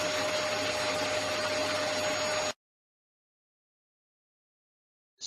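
A vacuum cleaner runs with a steady, loud whooshing drone for about two and a half seconds, then cuts off abruptly into silence.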